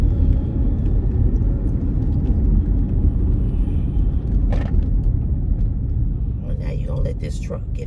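A car rolling slowly along a road, its engine and tyre rumble steady and close throughout, with faint traffic noise in the background and a brief louder hiss near the end.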